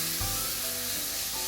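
Garlic and pak choy fry in sesame oil in a pan with a soft, steady sizzle and a brief scrape or stir near the start, close and low in level.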